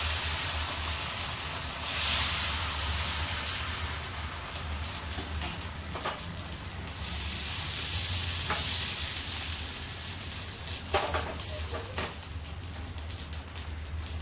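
Neer dosa batter sizzles steadily on an oiled pan, a continuous hiss that swells and eases with a few sharp crackles and pops, close and fairly loud with no voices.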